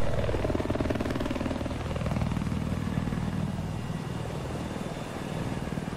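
A helicopter in the video game Battlefield 4 gives off a continuous, loud rotor and engine drone that holds steady throughout, with no talking.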